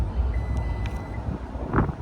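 Power liftgate of a 2026 Toyota RAV4 closing after a key fob press, with a few short warning beeps over a low motor hum and a brief clunk near the end.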